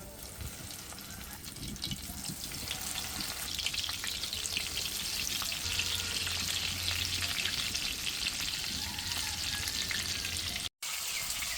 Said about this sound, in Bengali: কড়াইতে পরিমাণ মতো তেল দিয়ে তেলটাকে ভালো করে গরম করে নিয়েছি। এখন হচ্ছে মাছগুলো আমি দিয়ে দিব।